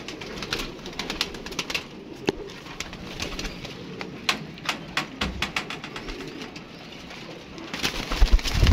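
Rampuri pigeons coo in soft, repeated rounds, joined by scattered clicks and wing flutters nearby, with no talking.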